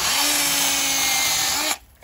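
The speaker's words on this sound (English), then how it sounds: "we'll just use a little chainsaw and we'll just take this off below the ball" A small chainsaw cuts through a bonsai trunk to remove an air layer, a loud, steady whine running close up for almost two seconds, then cutting off abruptly into quiet.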